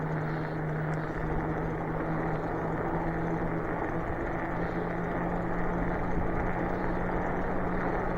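An e-bike fitted with an Ebikeling conversion kit, an Outroad bike, climbs a hill in pedal assist level 3. A steady faint motor hum sits under heavy, constant wind rush for the whole stretch, with no talking.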